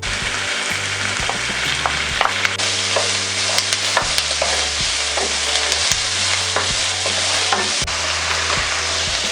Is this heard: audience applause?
no